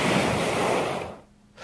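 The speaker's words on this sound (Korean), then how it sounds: "이 소리는 그 돌들이 구르는 소리입니다" Surf washes over the rounded pebbles of Mongdol beach on Geoje, rolling the stones with a loud, broad rushing hiss that fades away, then briefly swells again at the end.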